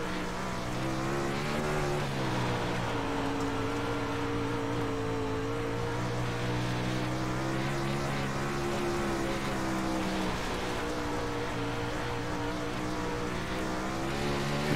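A 360 sprint car engine on a dirt track at Weedsport, running with a low, steady roar that sags and bogs rather than climbing to its rev limit, loud and continuous for the whole stretch with no talk.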